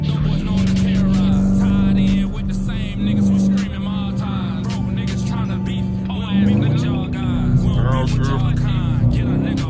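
A loud Dodge Challenger R/T drones and revs in traffic, its engine note climbing and then dropping through a downshift, with people talking over it inside the car.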